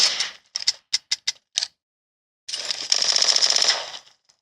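Rapid gunfire in a mobile shooter game on a Xiaomi Redmi Note 10: several short separate bursts of shots, then a longer sustained automatic burst, fairly close and clear with no talk.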